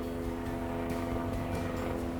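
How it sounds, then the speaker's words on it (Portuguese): A helicopter arriving overhead produces a steady low rotor and engine drone with a rhythmic chopping pulse, continuous and fairly loud throughout, with no speech. "olha, o helicóptero"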